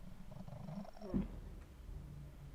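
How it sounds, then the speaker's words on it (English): A cat purrs faintly in The Cat Lady video game, a soft low rumble over a quiet, murky background with one brief bump partway through. "I hear the cat again."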